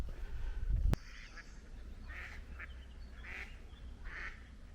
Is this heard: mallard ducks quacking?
yes